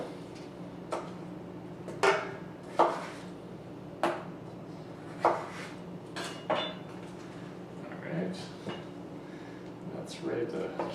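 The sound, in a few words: knife cutting cucumber into sticks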